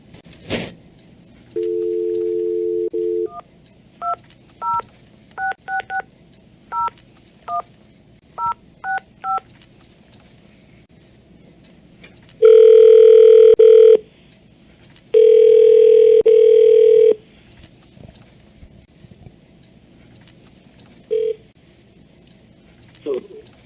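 A telephone places a call during a public hearing: a steady dial tone, then a run of short keypad tones in a quick uneven sequence, followed by two long, loud ringback tones, all clear and close with a quiet background.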